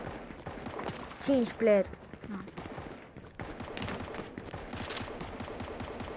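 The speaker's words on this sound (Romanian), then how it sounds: "Aud glanțe, împușcături de-alea dese" Rapid bursts of gunfire in Fortnite rattle faintly in the distance under game sounds, while someone speaks briefly over them.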